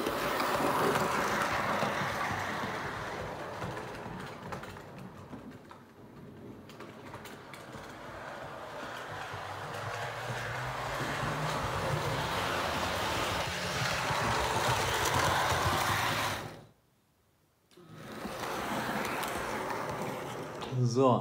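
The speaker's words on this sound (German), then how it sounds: "Das Einzige, was man eben hört, ist das Geräusch der Lokomotive durch das Gewicht auf den Schienen" A Märklin H0 scale NoHAB DSB MY1110 model locomotive rolls along screwed-down track, giving a steady close whirring rumble and rail hum that runs continuously and briefly cuts out near the end before resuming.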